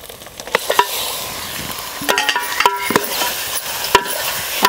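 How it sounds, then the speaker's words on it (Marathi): Turmeric- and salt-rubbed mutton goes into a hot pan on a wood-fired stove and is stirred, a loud sizzle broken by repeated ringing clanks and scrapes of a metal spoon against the vessel. "हे मटण ह्याच्यात टाकायचे"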